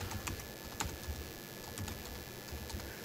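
Fingers type briskly on a computer keyboard, giving a quiet, irregular patter of key clicks with no talking.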